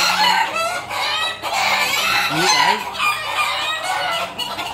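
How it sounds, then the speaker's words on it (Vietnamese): Chickens on a farm cluck and call close by, with rapid bursts and squawks and one rising crow-like call in the middle, while someone speaks briefly. "đây là gà chuối"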